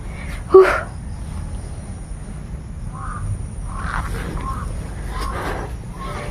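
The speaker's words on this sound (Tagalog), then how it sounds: "Nagsisidatingan na naman yung mga bagong uwak mga idol." Crows caw outdoors, a few separate calls scattered across the moment, moderately distant over a low steady background rumble.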